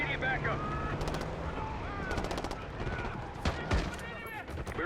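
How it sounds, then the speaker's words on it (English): Distant gunfire in the Call of Duty Black Ops 6 video game, scattered bursts of rapid shots cracking over a windy desert ambience, moderately loud with no one speaking. "We've got gunfire to the right."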